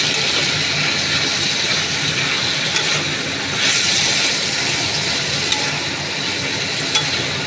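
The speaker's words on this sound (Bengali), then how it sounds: "মাছটাকে ছেড়ে দিয়ে একটু নাড়িয়ে চাড়িয়ে নেব।" Fish pieces frying in a hot pan and being stirred, a dense continuous sizzle with faint scraping, loud and close throughout with no talking.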